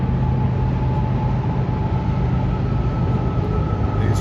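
A long freight train rumbles steadily past outdoors along a walkway at dusk, a continuous loud roll of rail cars with a sustained low hum and no voices.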